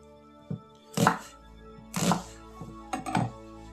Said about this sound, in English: we're going to chop up 1 onion